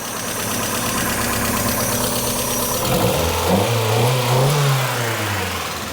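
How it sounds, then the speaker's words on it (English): An old car that sat unused for years has its engine running in a shop after a starter replacement, a loud steady idle that rises into revving with some knocking, close up. "This old thing is running."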